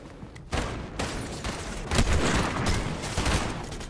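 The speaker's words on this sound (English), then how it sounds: "I have to use a shotgun on you." Shotgun blasts in Fortnite go off in a dense, loud volley, with repeated booming shots crowding one another over about four seconds and a brief quieter lead-in at the start.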